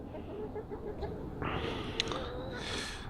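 Golden Comet hens cluck and call inside a backyard coop, faint and intermittent with a few brief squawks, heard at a distance without talking.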